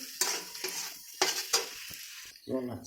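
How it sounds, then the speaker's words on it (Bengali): Onions and spices sauté in a pan for a Bengali-style chicken curry with potatoes. Several short stirring scrapes and sizzling bursts come up close, with a brief voice near the end. "পেঁয়াজটা কষিয়ে নিব, তারপরে মাংসটা দিয়ে দেবো"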